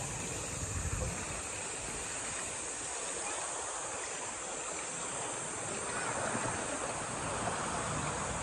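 Steady wash of sea waves on a white-sand beach at a resort in Romblon, a constant broadband surf roar with gentle swells in level and a little wind rumble, heard alone.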